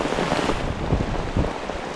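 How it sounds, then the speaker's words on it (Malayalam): Heavy summer downpour pours onto leaves and the ground below, a loud, dense, unbroken hiss of rain with a couple of low thuds rising out of the wash. "ഭയങ്കര മഴയാണല്ലോ ഇത്"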